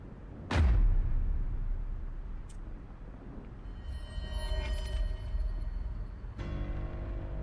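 Fireworks explode in the video game AI The Somnium Files, one sharp, heavy boom near the start that rumbles off, then a faint pop and softer crackling bursts with ringing tones that fade and then return.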